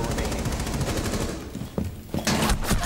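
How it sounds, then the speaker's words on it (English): Rapid automatic gunfire in a Rainbow Six Siege round, loud bursts of shots running nearly continuously and thinning out with brief gaps near the end. "My teammate just shot me in the back."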